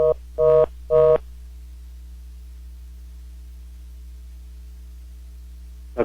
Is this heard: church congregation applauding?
no